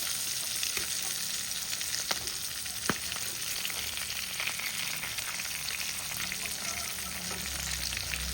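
Sardines fry gently over low heat in a pan for fish masala, making a steady, fairly quiet sizzle and crackle with occasional sharp ticks and a scraping turn of the fish.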